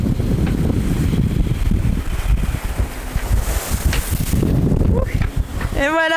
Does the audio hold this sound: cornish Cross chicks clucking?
no